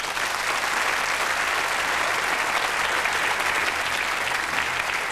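Studio audience of a 1995 British game show gives a dense, loud, sustained round of applause that holds steady and unbroken throughout.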